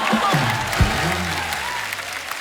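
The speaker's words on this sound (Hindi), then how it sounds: "जोरदार तालियां यार, वाह वाह" A studio audience on a comedy talk show claps loudly in a steady wash of applause, with a voice talking over it throughout.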